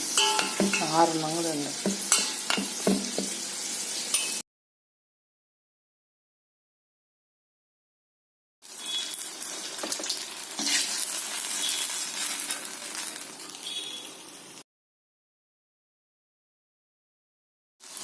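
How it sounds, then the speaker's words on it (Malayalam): Leftover banana fritter batter fries in hot oil with a steady crackling sizzle and stirring scrapes, in two separate bursts split by silence. "അവസാനം മിച്ചം വന്ന് മാവ് കൂടെ എണ്ണയിൽ ഒഴിച്ച് വറുത്തെടുക്കാം"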